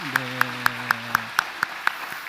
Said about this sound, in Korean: 우리 축복과 감사의 박수 한번 보내주시겠습니까?